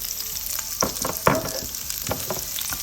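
Onions fry in olive oil in a pan, a close, steady sizzle broken by a few scraping stirs, with no voices.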